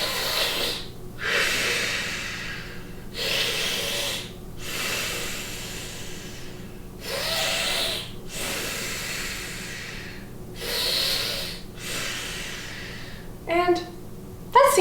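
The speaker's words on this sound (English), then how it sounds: "did their astronaut breathing like this" Slow, deep breathing exercise in a kids' yoga session, five long audible inhale-exhale cycles with breathy hiss, evenly spaced and close, followed by a brief vocal sound at the end.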